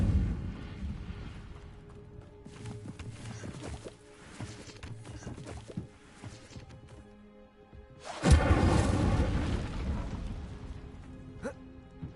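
Incendio fire spell cast in a Hogwarts video game: a quiet crackling, thumping stretch, then a sudden loud whooshing burst of flame that roars and slowly fades.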